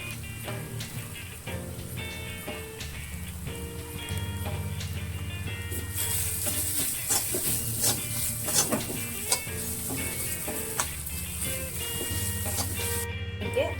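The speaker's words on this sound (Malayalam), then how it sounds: "ഇതിലേക്ക് നമ്മൾ തേങ്ങയും കൂടിയിട്ട് നന്നായിട്ട് വറുത്തെടുക്കുവാണ്" Grated coconut frying in a pan for a mackerel fish curry, a continuous sizzle with repeated scraping and stirring of a utensil against the pan, close and moderately quiet, with faint background tones.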